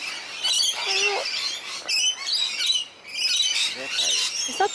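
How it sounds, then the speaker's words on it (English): A parrot squawks in Sydney, several sharp harsh calls in bursts over outdoor city ambience, fairly near, with brief chirps between. "Oh! That's a parrot!"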